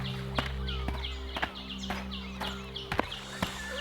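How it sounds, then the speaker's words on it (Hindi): Horse hooves clip-clop in a steady walking rhythm as a merchant mounts and rides off along a shaded roadside, fairly close and clear over a soft background hum with faint birdsong. "व्यापारी उठकर घोड़े पर सवार होकर चला जाता है"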